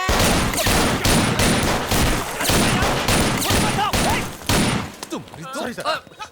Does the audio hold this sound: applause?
no